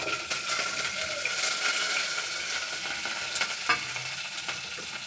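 Garlic, cumin, dried red chillies and curry leaves sizzle steadily in hot oil for a yogurt pachadi tempering, a continuous close frying hiss with occasional stirring clicks and spatters, no talking.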